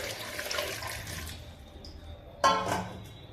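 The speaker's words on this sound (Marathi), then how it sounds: "त्यामध्ये पाणी पण टाकते" Water splashes into a pressure cooker holding nine or ten potatoes, a short burst of pouring near the end after a stretch of low background noise.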